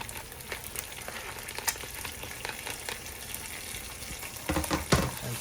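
Freshly ground garlic, ginger and freshly cut tomatoes fry in a pan for a crab curry, giving a soft, steady sizzle with light crackles and a few louder stirring clatters near the end. Nobody speaks.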